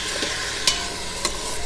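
Onions sautéing in fat rendered from ground beef inside an Instant Pot for bulgogi, a soft continuous sizzle with a couple of sharp utensil scrapes and taps, no talking.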